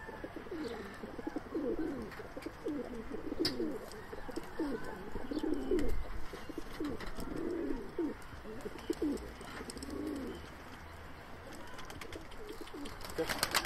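Pigeons, Sivas play birds, coo in soft repeated rolling phrases at close range, a steady series of calls with faint background noise and a little quiet talk.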